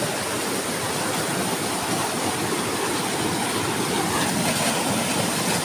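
A strong flood current rushes past in a steady, loud, unbroken roar of water that holds without pause throughout, with no voices.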